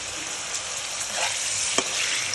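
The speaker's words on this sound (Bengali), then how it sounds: "তেলটা গরম হয়ে গেছে। এখন এর মধ্যে আমি পটল আর আলুগুলো দিয়ে দিচ্ছি।" Pointed gourd and potato pieces fry in hot oil in a pan, giving a steady close sizzle with light stirring and a few soft clicks. No one talks.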